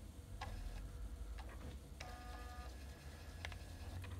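A floppy drive on a modern computer booting MS-DOS gives faint, close mechanical ticks and short buzzy seeks in irregular bursts over a steady low fan hum.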